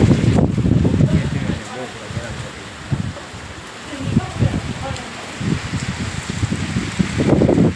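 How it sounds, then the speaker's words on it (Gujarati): Gusty storm wind roars and rushes with a steady hiss of heavy rain behind it, surging and easing in loud bursts, with people speaking now and then. "પવનનો અવાજ આવતો છે તમે જોઈ શકતા છો"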